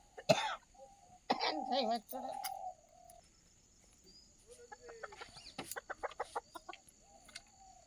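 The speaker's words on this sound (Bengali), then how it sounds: "আমাদের ঠাকুমা মুরগি ধরে চলে এসেছে" Chickens in a rural Bengali village yard, caught and carried by hand, cluck and squawk in short bursts, then a quick run of rapid clucks, with faint voices nearby.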